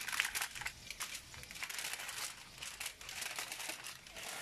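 Wrapping, probably foil, is crinkled and folded around fish seasoned with pimento seed, thyme and pepper before grilling, giving close, continuous rustling and crackling with no talk.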